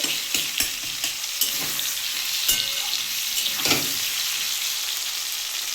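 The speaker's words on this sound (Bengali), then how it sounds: "আমার আলু আর টমেটো একদম ভাজা হয়ে গেছে" Potatoes and tomatoes fry in a pan for a catla fish and elephant foot yam curry, giving a continuous hiss with several sharp stirring scrapes and clacks of a spatula close by, no voices.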